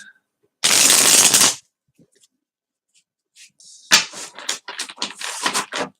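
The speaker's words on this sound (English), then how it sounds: "I feel like I shuffle these cards in a very odd way" Playing cards shuffled in a quick riffle burst, then a pause with faint handling clicks, followed by a longer run of crisp, close riffling flutters and snaps.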